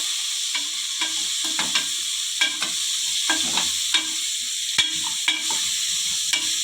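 Eggplant and capsicum sizzle and crackle in hot tempering oil while a utensil repeatedly scrapes and stirs the pan in an irregular rhythm.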